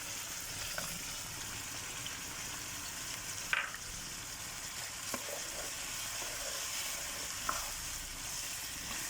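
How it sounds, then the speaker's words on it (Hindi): Chicken pieces fry for a white karahi in a pan, giving a steady broadband sizzle throughout with a few brief stirring scrapes and clinks. "तकरीबन 2 मिनट हो गए हमें इसको फ्राई करते हुए और अब चिकन का कलर चेंज हो गया है"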